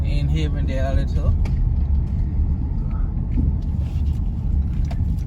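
A car drives along rough residential roads in St. Andrew, with a steady low engine rumble and road noise throughout. A voice talks briefly over it at the start.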